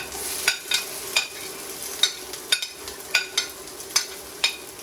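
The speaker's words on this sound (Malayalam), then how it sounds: "2 സവാള, 4 പച്ചമുളക് ഇതൊന്നിടുക. ഇട്ട് മൂപ്പിക്കുക." Onions and green chilies frying in a pan for vendakka masala, with a continuous hiss broken by a regular series of sharp stirring scrapes and clinks of a spoon against the pan, close up and without speech.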